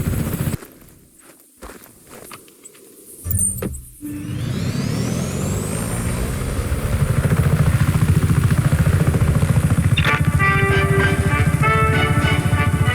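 A helicopter in the open-world action game Just Cause 3 whirs steadily and loudly, building after a few seconds of scattered footsteps and clatter, with a rotor hum continuing to the end.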